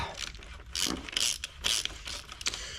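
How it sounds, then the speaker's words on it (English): A ratchet loosening a 17mm nut on the rear shock of a 2025 Husqvarna TX300 enduro dirt bike, close-up bursts of quick metallic clicking in several short runs with brief pauses between them. "gonna pull off this nut, which is the 17"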